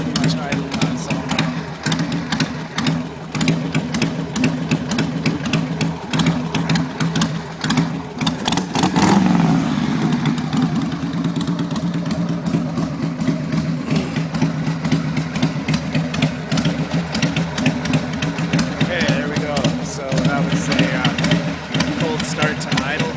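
1994 Harley-Davidson Sportster XL engine idling on its own after a cold start, a steady close chugging rumble that holds throughout the clip.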